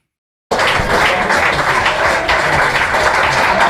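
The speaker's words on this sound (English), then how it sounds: "I want to give him one more round of applause" An audience gives a steady round of applause, many hands clapping densely and evenly at close range after a moment of silence, with no talk over it.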